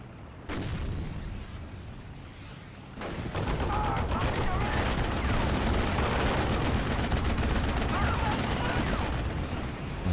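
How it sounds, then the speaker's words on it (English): Gunfire and a grenade in the WWII strategy game Steel Division: Normandy 44 at Caumont: a sharp blast, then sustained dense rattling fire and rumbling explosions, loud and continuous, with faint voices underneath. "let's kill these guys off with a grenade"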